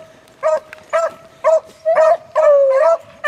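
Beagle hounds bay in a series of five or six loud, drawn-out cries with short gaps between them, the pack sounding close and fairly steady in rhythm, with no one talking over them.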